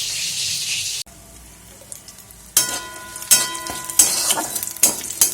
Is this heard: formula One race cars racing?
no